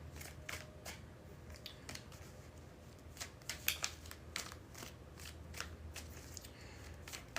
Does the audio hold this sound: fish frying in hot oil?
no